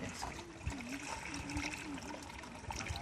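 Water is poured from a water bowl onto grass outdoors, giving a soft, faint splashing trickle throughout, with voices murmuring in the background.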